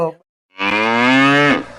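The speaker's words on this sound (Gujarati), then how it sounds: "મારો લાલ બળદિયો છે બળદિયો" A bull lets out a single loud, drawn-out moo used as a comedy sound effect, close and clear, preceded by a brief short snort or low call.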